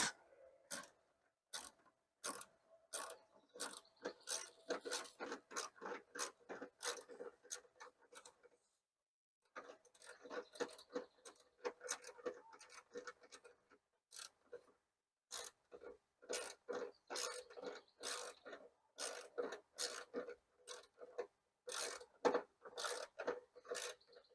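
A ratchet wrench working on a 2006 Chevrolet Impala headlight assembly, giving quick runs of dry clicking strokes in bursts with a short pause midway, close and fairly quiet.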